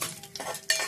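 A tempering of black gram dal, chana dal, mustard seeds, cumin and dried red chillies is stirred in hot oil, giving a quick scrape and clink of a spoon against the pan over a faint sizzle.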